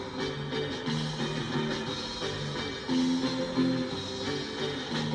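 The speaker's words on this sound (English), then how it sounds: "I don't know if y'all can hear that organ in the background" Organ weaving through the background of a surf rock track by Thálasses, sustained chords mixed under guitar, bass and drums at steady volume.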